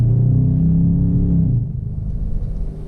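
A 2019 Dodge Charger R/T accelerates hard, with a loud, near engine drone rising in pitch for about a second and a half before settling into a lower, rougher rumble.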